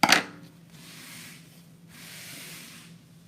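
Scissors give one crisp snip through a ribbon while a bow is being made, followed by soft, drawn-out rustling and rubbing of the ribbon close by, with no talking.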